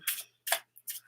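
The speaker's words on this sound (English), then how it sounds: "I'm just shuffling. Every day I'm shuffling." Tarot cards are shuffled by hand in four quick riffling bursts with short gaps between them. The crisp papery flutters are close and clear, with no talking.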